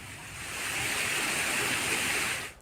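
Steady rain falls in Ranchi as a continuous broadband hiss, loud and even for a couple of seconds before cutting off abruptly at the end.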